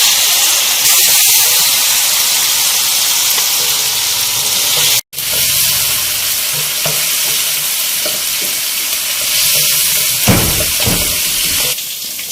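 Chicken for a ginger chicken dish frying in oil, a steady loud sizzle and hiss throughout with a brief dropout midway and occasional stirring scrapes near the end.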